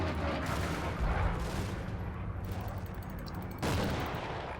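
Gunfire in Combat Mission: Battle for Normandy comes as dense bursts of rifle and machine-gun shots with booming impacts, near and loud, pausing briefly before another heavy volley.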